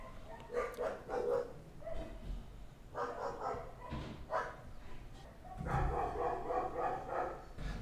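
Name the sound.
dogs barking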